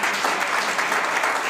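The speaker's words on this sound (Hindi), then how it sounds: "एक बार जोरदार तालियां बजाओ।" A live audience at a college program claps loudly and continuously, a dense, even wash of applause with no pauses.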